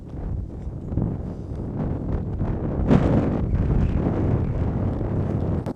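Strong headwind buffeting an outdoor spot where a boomerang launcher is being tested, a continuous loud roar of wind rushing across the microphone with a sharper gust near the middle.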